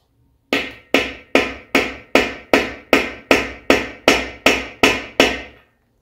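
Hammer blows drive a part into a 1990 Toyota Pickup 3VZE 3.0 V6 engine during a rebuild, twelve sharp, evenly spaced metallic strikes about half a second apart, loud and close with short ringing decays and no talking.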